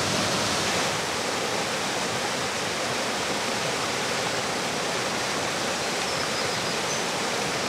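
The wild Dourbie river rushes steadily, a broad constant roar of flowing water with no letup and no voices.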